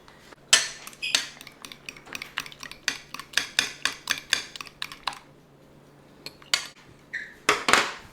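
Egg yolks are beaten in a bowl with a little hot grits, giving a rapid run of sharp clinks and taps from a utensil against the bowl. The strokes come in quick bursts, close and crisp, and there is no talk.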